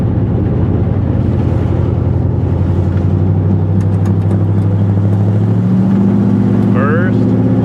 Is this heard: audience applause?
no